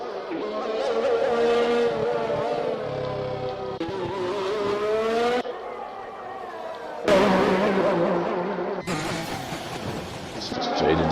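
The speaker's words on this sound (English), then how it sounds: "So many cars out on track" Race cars in an F1 esports video game lapping a circuit, engine whine rising and falling in pitch with several cuts between cars, heard under steady commentary.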